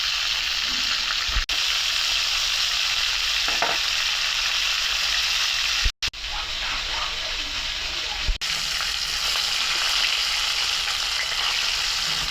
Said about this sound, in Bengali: আগে মাছটা ভাইজে নিতেছি।